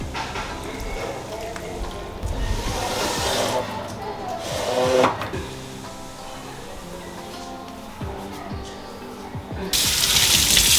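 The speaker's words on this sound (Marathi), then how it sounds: "आता जे पाणी आहे ते मी तुळशीला वाहते." Water poured from a vessel onto a potted tulsi plant trickles and splashes softly in a steady stream for several seconds, with faint household voices in the background and a brighter splash near the end.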